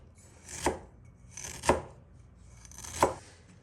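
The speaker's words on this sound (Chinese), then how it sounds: "切成薄片" A knife slices fresh ginger into thin slices on a cutting board, three distinct, evenly spaced chops close up with quiet pauses between them.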